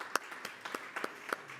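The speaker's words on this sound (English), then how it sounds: "which is worth a round of applause" A few scattered hand claps from an audience at a maritime mid-term review conference, sparse and distinct in an irregular rhythm, fairly faint with a quiet room behind.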